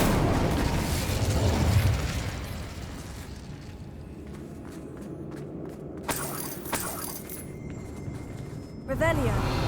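An Incendio fire spell bursts in Hogwarts Legacy with a muffled fiery boom and crackle amid game ambience, a fainter rumble early on and sharper bursts later, with footsteps and spell effects around it.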